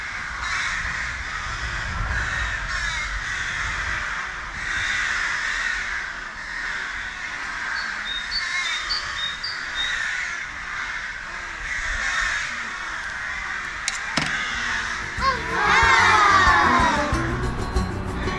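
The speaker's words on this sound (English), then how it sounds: "you can listen to the birds. They're incredibly loud." Crows caw loudly and persistently in the early morning in a German town, a steady chorus of harsh repeated calls filling the air, with other birds joining briefly near the end.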